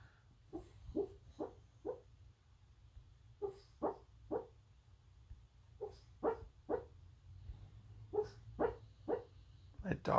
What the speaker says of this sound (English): Dog is having a dream of some sort.